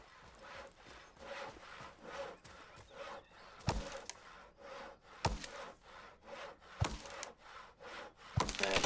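Repeated rhythmic strokes of sawing wood planks at a crafting bench in Cowboy Life Simulator, a steady back-and-forth rasp with a few sharper knocks, close and moderately loud with no talking.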